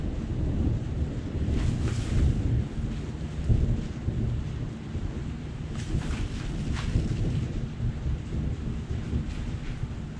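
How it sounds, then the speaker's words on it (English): Deep, rolling thunder rumbles on for several seconds, low and heavy, with wind buffeting the microphone throughout. "there was thunder"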